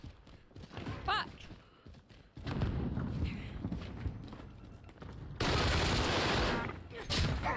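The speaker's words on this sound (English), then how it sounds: "Don't know where I'm getting shot from. Taking fire." Video game gunfire in Warzone, bursts of rapid shots and heavier blasts mixed with game effects, loudest in a dense final volley, with faint talk underneath.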